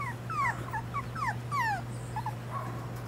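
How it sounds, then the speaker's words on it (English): Five-week-old puppies yip, whimper and whine in quick overlapping bursts close by, high-pitched and insistent, over a steady low hum with no talking. "And they're barking"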